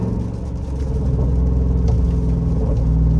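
Jeep Rubicon 392 V8 with a full tune and PCM swap, revving to 2500 RPM in third gear, a loud, close, deep engine rumble that builds and then holds steady, with no voices.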